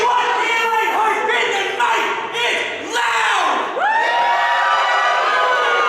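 Wrestling crowd at a live showcase event in a school in Melton, Australia, cheering and shouting loudly and continuously, with whoops rising and falling in dense waves close around the listener.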